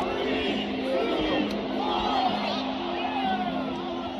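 A packed stadium crowd at a football game roars in a dense, steady wash of voices, with scattered whoops and yells rising out of the constant noise.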